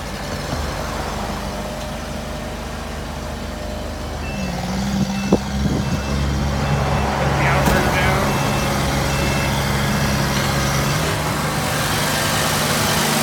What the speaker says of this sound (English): now we're going to start up the pony motor and operate the hydraulics